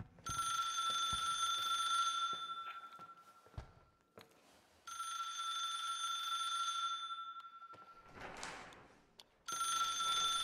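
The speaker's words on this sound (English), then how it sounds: "are you gonna pick the bloody phone or not?" Telephone ringing in the horror game The Suicide of Rachel Foster, a clear electronic bell ring in long repeated bursts separated by short pauses, loud and alone with no talk.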